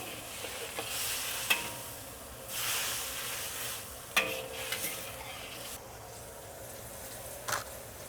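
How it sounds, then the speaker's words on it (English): Chicken stir-fry sauce sizzling in a hot wok as it is pushed around the sides, a soft continuous hiss broken by a few sharp clanks of a spatula against the wok. "I'm going to push the sauce around the sides of the wok to deglaze it"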